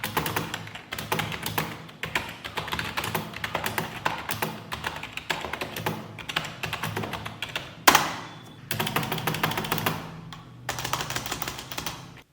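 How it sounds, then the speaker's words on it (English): Brisk, continuous clacking of a Redgear Blaze 7 budget mechanical gaming keyboard at close range, with a few short pauses and a louder thock near the end. "the whole typing experience, basically the experience with this keyboard is very satisfying, especially the way it sounds"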